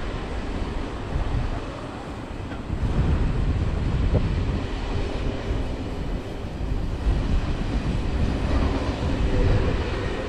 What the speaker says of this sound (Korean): 아, 저 기차 가는 소리였구나.